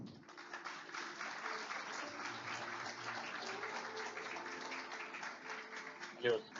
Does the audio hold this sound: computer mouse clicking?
no